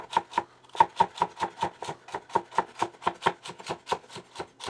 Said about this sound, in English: My culinary professor would be so proud of me, the way I chop